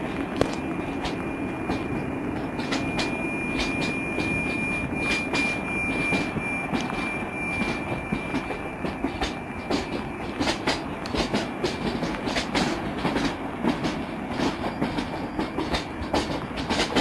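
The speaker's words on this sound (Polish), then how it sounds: "Pociąg osobowy do stacji Radom wjedzie na tor" A passenger train rumbles past close by as it arrives at a station platform in Poland, its wheels clacking rhythmically over rail joints under a steady metallic roar.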